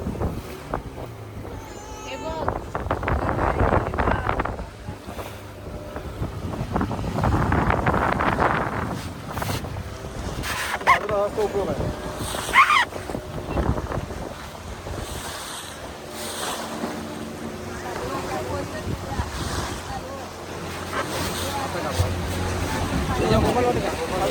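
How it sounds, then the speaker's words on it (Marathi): Boat motoring over the sea off the Konkan coast at Malvan, slipping between two rocks, with continuous wind roar, surging waves and engine rumble throughout, and voices talking over it. "2 खडकांच्या बरोबर मधनं आपली आता बोट जाणारा"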